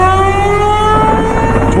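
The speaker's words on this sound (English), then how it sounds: "Tornado warning sirens sounding the alarms" A tornado warning siren wails in the United States in a steady, sustained tone with slowly drifting pitch during severe spring 2015 storms with hail and torrential rain, loud and unbroken across the moment.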